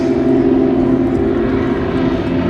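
Propeller-driven aerobatic display aircraft flying head-on in formation at the Duxford Air Festival, a loud, steady droning engine roar that holds constant and close throughout, with no talking.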